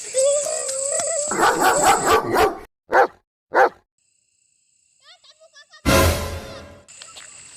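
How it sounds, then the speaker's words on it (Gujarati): A rabid dog barks in short, excited bursts mixed with people talking and shouting, followed by a sudden loud, noisy clatter near the end. "અરે બાપરે આ તો હડકાયું કૂતરું છે"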